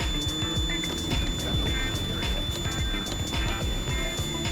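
An older Lexus GS300 sedan's security system gives a repeated electronic beep, steady and fairly faint, over a background of engine-bay noise and clatter; no one speaks during it.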